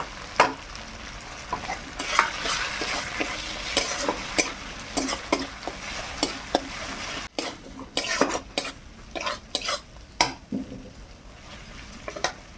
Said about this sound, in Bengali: মশলাটা খুব ভালোভাবে ভাজা হয়ে গেছে, দেখুন মশলা থেকে তেল ছেড়ে গেছে